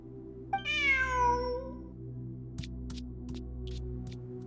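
A cat meows once in Genshin Impact, a long falling cry, close and clear over a steady low game hum, followed by a few faint clicks.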